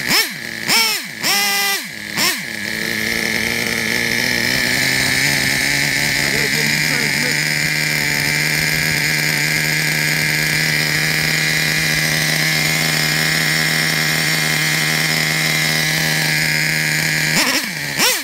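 A Traxxas Revo 3.3 nitro RC truck engine fires up after a few sputtering pull-start attempts, then holds a loud, buzzing high-pitched whine close by, with stuttering bursts again at the end.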